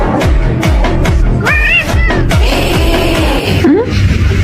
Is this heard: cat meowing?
yes